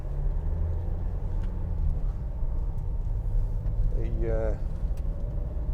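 A 2016 Vauxhall Vivaro 1.6 CDTi ecoFLEX BiTurbo Sportive van drives along with a steady low engine and road rumble from the cabin. A voice talks over it.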